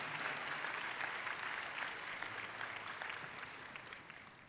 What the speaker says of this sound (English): another round of applause, ladies and gentlemen, please